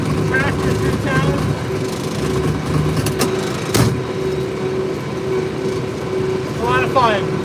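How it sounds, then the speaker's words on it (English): An IH 3688 tractor drives through town in the evening after hay cutting, its engine droning steadily and close throughout, with brief clanks and knocks around the middle and a voice talking over it. "Driving our tractor through town on the way back from cutting hay this evening."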